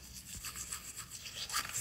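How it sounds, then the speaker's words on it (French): A small toothbrush scrubs in quick, rhythmic strokes at close range, a brief bristly swishing with no talk over it. "Regardez, petite brosse à dents."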